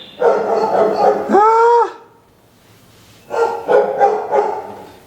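Several dogs barking close and loud in two bursts, with a rising howl-like yelp in the first burst and a pause between.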